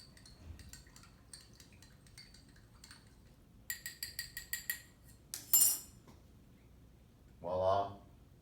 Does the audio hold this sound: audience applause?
no